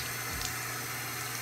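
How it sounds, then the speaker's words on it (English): Tap water running steadily into a bathroom sink during a face-washing routine, a soft continuous rush heard alone at low level. "Oh, don't leave the water running."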